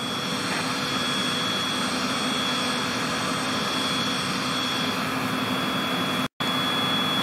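A small plane's engine drones loud and steady from inside the cabin on the landing approach, a constant roar with high whine tones, broken once by a brief dropout near the end.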